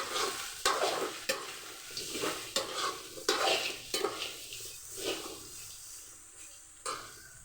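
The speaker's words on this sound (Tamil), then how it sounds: "அலசி போட்டு நல்லா வதக்கி எடுத்துக்குவோம்" Bitter gourd sautéing in oil in a pan, with a soft continuous sizzle broken by repeated sharp scrapes and knocks of a spatula stirring at an uneven rhythm, close by and with no talk.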